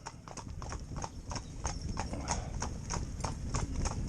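A pair of Gypsy Cob horses trotting in tandem give steady, rhythmic hoof clip-clops over a constant rumble of movement and wheels, with no talking.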